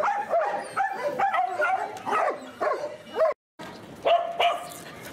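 Several dogs bark and yip repeatedly at a dog shower where ticks are being removed, with short sharp barks and whiny yelps in quick bursts, close and loud, with a brief pause near the end.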